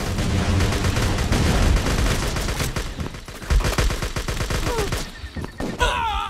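Machine gun fire in a first-person shooter game, a loud, dense fusillade of rapid automatic bursts that thins into scattered shots and booms, with electronic game effects near the end.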